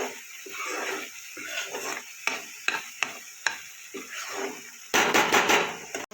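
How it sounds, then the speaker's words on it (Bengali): Spices sizzle in oil in a pan while a spoon scrapes and stirs in repeated uneven strokes, with sharp metallic taps against the pan, ending in a louder burst of frying. "দিয়ে মশলাটা ভালো করে কষিয়ে নেব"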